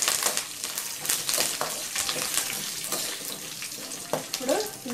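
Curry leaves and dried red chillies frying in hot oil for mint rice, a dense crackling sizzle with irregular pops and spatters, close and steady throughout.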